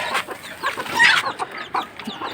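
Chickens cluck repeatedly at close range, a flock of adult hens kept with a chick caged apart, with short overlapping calls forming a busy, steady stream of farmyard chatter.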